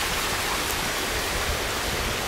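Heavy rain pours down during Storm Noru in Laos, with flood water running nearby: a dense, constant roaring hiss that stays loud and unbroken throughout, with no voices.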